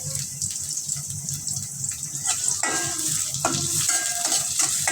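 Turnip curry with onion, green chilli and shrimp sizzles and bubbles in a pan while being stirred, a steady close frying hiss with scraping clinks and no talking.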